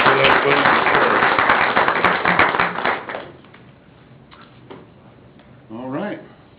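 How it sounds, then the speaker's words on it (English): A brief round of applause at a city council meeting fills the first three seconds, loud and dense, then fades into quiet room noise with a short spoken phrase near the end. "I'm going to give a little round of applause for those folks."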